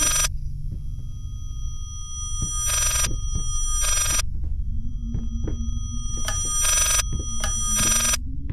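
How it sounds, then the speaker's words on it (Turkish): An old-style telephone bell rings in repeated bursts in the horror game Layers of Fear, each ring a shrill trill separated by silence, over a low droning ambience with faint thuds and creaks. "aynı telefon mu çalıyor?"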